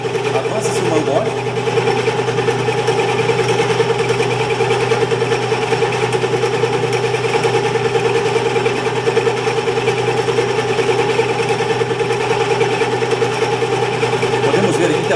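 A metal lathe runs with a slight vibration, giving a loud, steady mechanical hum with a faint rapid rattle throughout, partly under someone talking.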